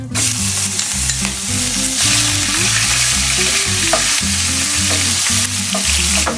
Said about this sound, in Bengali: পেঁয়াজটা এক মিনিট ধরে ভেজে নেব